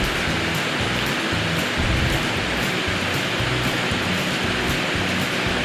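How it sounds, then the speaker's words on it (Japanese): A small waterfall on a low mountain trail on the Miura Peninsula gives off a constant broadband rush of falling water, steady and fairly close, with no voices. "小さな滝。"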